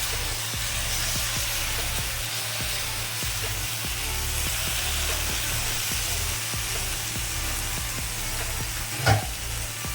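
Elephant foot yam stalks frying in a pan, a steady close sizzle and hiss with a low hum underneath and one sharp stirring knock near the end.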